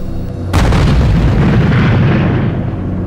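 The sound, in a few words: bomb explosion in Afghanistan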